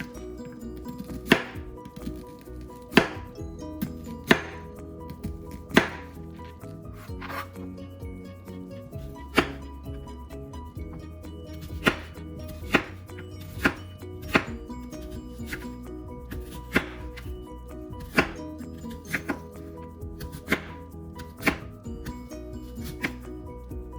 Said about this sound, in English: now that the onions, I cut them up, rinsed them off. Now I'm going to go ahead and chop them up.